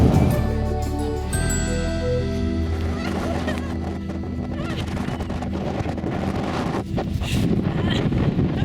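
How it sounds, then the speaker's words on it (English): Strong wind in Iceland buffets the microphone in a steady low roar, with gusts rising and falling throughout. "It is windy"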